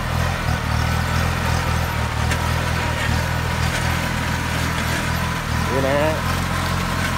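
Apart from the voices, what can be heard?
Kubota B2440S tractor engine running with plough attached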